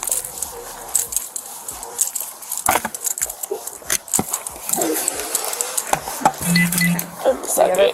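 Keys jangle in short metallic bursts as they are passed from hand to hand, with a dog whimpering and barking close by and a few voices talking intermittently.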